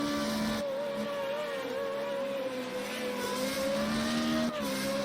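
An FR35 single-seater race car in Austria powering out of turn one and up a hill, its engine note droning steadily and rising under throttle, loud and fairly close with a brief gear-change break near the start.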